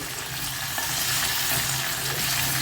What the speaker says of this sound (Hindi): यहाँ पर मैं 1 टेबल स्पून लहसुन का पेस्ट डाल दूंगी। इसे मैं 1 मिनट फ्राई होने दूंगी।